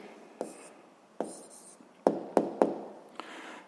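Writing out the answer to a seventh-grade physics exercise produces a string of close pen strokes, roughly seven quick scratches and taps in irregular bursts, with a near-silent background.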